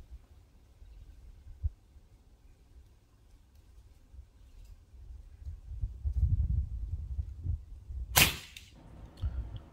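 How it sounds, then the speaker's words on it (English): A Hatsan Sortie .22 semiautomatic air pistol with a shrouded barrel fires a single sharp, fairly close shot, standing out over a steady low rumble of a generator running nearby. "And finally then, the Hatsan Sortie with its shrouded barrel."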